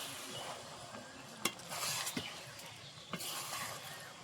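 Noodles getting stirred in a pan after soy sauce goes in, giving a soft continuous sizzle with a few scraping clinks of utensil against pan, no talking.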